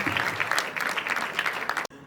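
A festive audience at a grand saree event gives a round of applause for a pop singer, dense sustained clapping that stops abruptly near the end.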